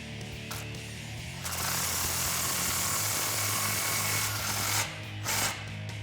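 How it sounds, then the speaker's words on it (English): A power tool tightens an exhaust clamp on a 2014-2021 Toyota Tundra 5.7L single exhaust system, whirring steadily for several seconds after a brief quiet start, then dipping and ending with short bursts, close and loud. "So just make sure you're holding the clamp safely, and go ahead and tighten it down."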